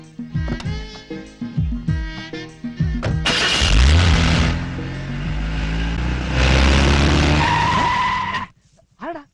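A car skids as it nearly hits someone: engine sounds and tyre squeal build to a loud, sustained screech that cuts off abruptly, followed by a brief quiet tail.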